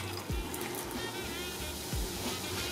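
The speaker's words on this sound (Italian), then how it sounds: "Poi mettiamo l'aceto." Vinegar pouring into a pot of water heating on the stove for poached eggs, a soft continuous liquid trickle with a couple of low clunks, faint and close, with no talking.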